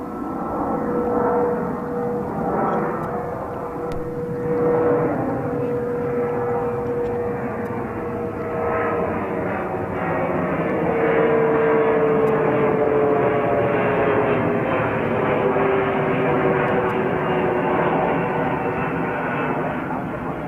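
A seven-year-old Mitsubishi CRJ 900 regional jet at JFK airport gives a steady, droning engine roar that holds evenly throughout, with a faint tonal whine drifting over it.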